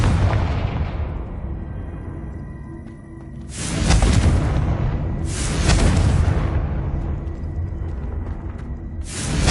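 Confringo fire spells cast in the video game Hogwarts Legacy, heard as three heavy booming explosions in succession, each a loud burst with a rumbling decay, and no talking.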